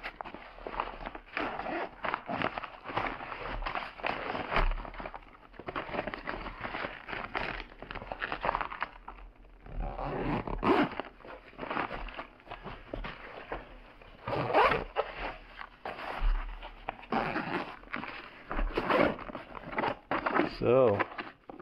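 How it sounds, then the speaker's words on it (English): A zipper runs around a Craft & Ride Onewheel Pint backpack as it is zipped closed, giving close, repeated rasping pulls in short bursts between pauses, with someone talking at times. "Let's go ahead and give it a zip up."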